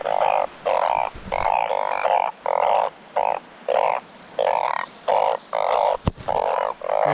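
Narrow-mouthed frogs call loudly and nearby in a steady series of about a dozen drawn-out, bleating croaks, evenly spaced, with a sharp knock partway through and no voices.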